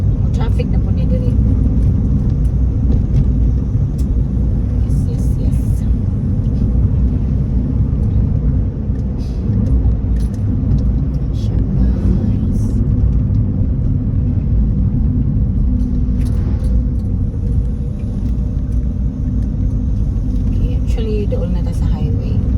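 Steady, loud rumble of cars on a busy highway in heavy traffic, a continuous low drone with passing engines, and voices talking now and then over it.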